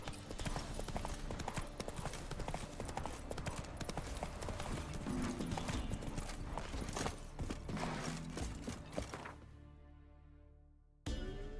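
Horse hooves galloping in The Witcher 3: Wild Hunt, a fast, steady clip-clop close by that slows and fades near the end before a brief final sound.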